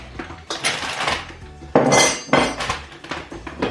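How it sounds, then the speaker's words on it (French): The bowl of a large food processor is handled in a home kitchen, giving a few loud plastic and metal clattering knocks and scrapes, close by, with no talk. "Je vais prendre le bol du gros robot"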